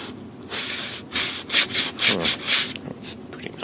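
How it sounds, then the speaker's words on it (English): A sanding tool smooths a seam on a composite ASH26 sailplane during flap installation. About a dozen close, rhythmic rasping strokes follow one another, with brief pauses between bursts, and no talk. "I'm going to take this sanding tool and just come in here. Try to clean it up just a little bit"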